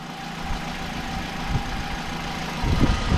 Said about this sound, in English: The engine doesn't sound too bad.